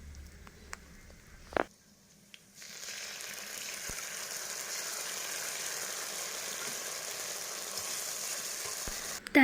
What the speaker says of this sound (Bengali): এমন করেই ভাজা করে নিতে লাগবে পেঁয়াজগুলো, যত সময় না একটু ব্রাউন ব্রাউন কালার হয়ে যায়